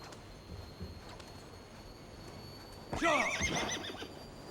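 A single loud horse whinny from the video game Assassin's Creed Valhalla rises clearly partway through, over a quiet background hiss with a few soft thumps before it.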